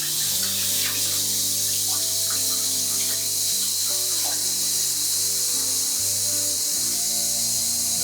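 A strong, continuous stream of tap water rinses a turkey, a loud, even spray and hiss throughout with music playing underneath and some faint handling noises.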